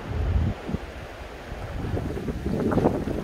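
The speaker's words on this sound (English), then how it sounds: "sorry for that gust of wind" A gust of wind buffets the microphone in a wooded park, giving a rough, low rumbling roar that swells at the start, eases off, then builds again.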